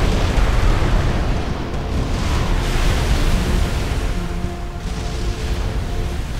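A weapon blast erupts on a ship's deck in Supreme Commander: a loud, sustained roar of dense rumbling noise that rolls continuously for several seconds with no voices over it.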